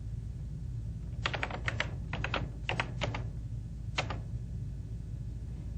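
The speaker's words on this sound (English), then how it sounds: "simply typing in a series of more than 3 of the following characters" Quick bursts of keystrokes on a computer keyboard, several short runs of clicks with pauses between them, close and clear over a low steady hum, no voices.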